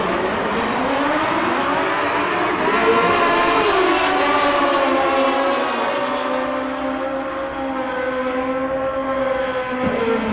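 Suzuki GSX-R 1000 drag bikes racing down a strip at a motorcycle drag racing world finals, a loud sustained high-pitched engine whine with rising gear-shift sweeps, steady and close throughout.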